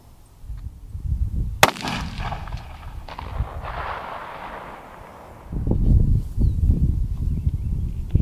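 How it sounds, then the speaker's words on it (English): Rifle shots at target practice from 200 yards on an open range, one sharp loud report standing out early, followed by rumbling wind and handling noise. "Shooting at 200 yards."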